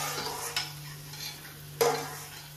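Peanuts and mustard seeds fry in a pan with a light sizzle over a steady hum, and two sharp scrapes or stirring knocks sound close by.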